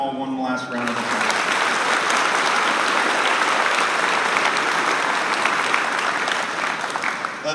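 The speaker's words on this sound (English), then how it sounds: "Let's give them all one last round of applause." Audience applause fills a school gymnasium or hall at an 8th grade middle school celebration, a dense, steady clatter of many hands that begins right after a voice and continues loud and unbroken to the end.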